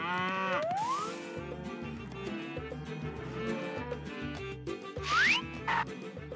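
Cartoon cows low on a farm in the Putt-Putt adventure game, a few moos over busy background game music and sound effects with bright sliding tones, no speech.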